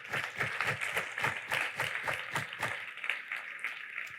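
A church congregation claps steadily and fairly loudly, a brisk run of hand claps holding for several seconds with no voices.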